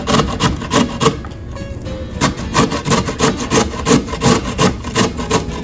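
A raw potato is rubbed against a cheese grater in a quick, even rhythm of rasping strokes, close up and alone after a brief pause.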